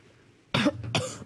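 A man at a press conference gives two short, sharp coughs about a third of a second apart, loud and close, with quiet room tone before them and no speech.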